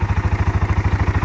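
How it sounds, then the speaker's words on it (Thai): A single-cylinder CFMOTO X625 ATV engine idles up close with an even, rapid thumping beat and a mechanical clatter on top. "นี่คือเสียงเครื่องยนต์ของเขานะครับ"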